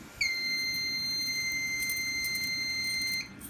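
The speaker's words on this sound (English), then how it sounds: "And we're doing a smoke detector for this." A smoke detector sounding its temporal alarm pattern lets out one shrill, piercing electronic tone that holds steady for about three seconds and then cuts off.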